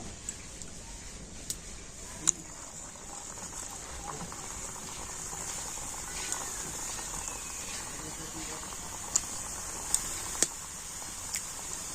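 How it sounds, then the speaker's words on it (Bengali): Pitha cakes frying in hot oil in a pan make a steady, dense sizzle that holds at an even level, broken by a few faint pops. "আর এখন আমি পিঠেগুলো তেলের মধ্যে দিয়ে দেবো"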